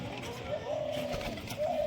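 A Dhanyabala pigeon coos in a few soft, drawn-out calls close by, over a low background murmur.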